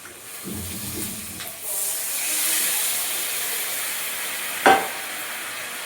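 Spiced water poured into a hot cooking pot while making a hilsa and eggplant dish, bursting into a loud rushing hiss of steam that settles into a sustained sizzle, with a sharp clank near the end.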